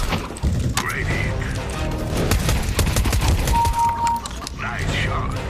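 Gunfire in Counter-Strike: Global Offensive, with repeated sharp shot bursts and impacts in close, loud clusters over steady game noise, while players talk throughout.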